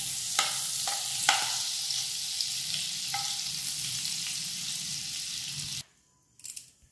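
Butter and white cooking oil sizzle loudly and steadily in a pan for tandoori chicken, with a few sharper crackles near the start, then the sound cuts off into near silence with a brief clatter at the end.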